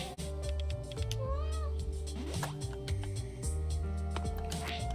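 Cat meowing in the video game A Space for the Unbound, a few short game meows over steady background music with no talk.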